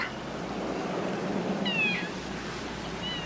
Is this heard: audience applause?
no